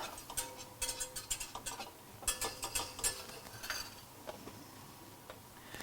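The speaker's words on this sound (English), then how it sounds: "mix my garlic in with my butter" Garlic is stirred into butter in a pan, a quiet run of rapid clicking and scraping taps from a utensil against the pan, easing off toward the end over a faint sizzle.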